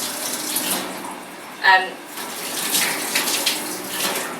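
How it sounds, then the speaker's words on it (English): Running tap water splashing steadily as hands and forearms are rinsed during a surgical scrub, a continuous close hiss with a brief louder splash, under a voice speaking. "rinse it off from the fingertips down to the elbows"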